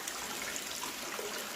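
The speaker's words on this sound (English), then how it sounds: "Wow, it sounds like a waterfall in here" Water splashes steadily through an RDWC double hydroponic system with a filled sump, a continuous broad rushing wash like a small waterfall, close and even throughout with no talking.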